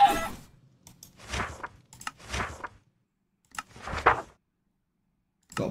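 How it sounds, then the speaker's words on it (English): Splash hit sound effect from the Damage Indicators addon for Minecraft Bedrock: three or four short, noisy, wet-sounding bursts, each under a second, spaced apart with silent gaps. "We've also got splash."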